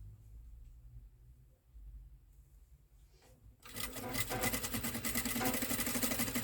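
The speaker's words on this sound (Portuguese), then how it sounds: "E desço costurando" A domestic sewing machine stitching fabric starts after a quiet stretch with low hum, then runs as a fast, steady mechanical whir and clatter close by until the end.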